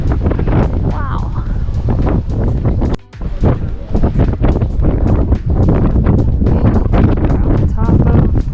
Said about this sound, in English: Extremely windy up here.